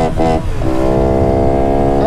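A Honda Pop 110i motorcycle with its air filter removed revs hard close by, a loud buzzing engine note that climbs and then holds a steady high pitch, with a voice briefly audible underneath.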